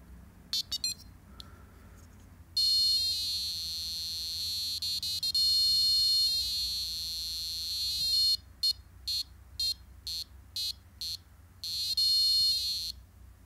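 Tones from a tiny capacitive touch guitar played through a small speaker: thin, high electronic beeps, some held and some in short repeated bursts, fairly quiet and alone.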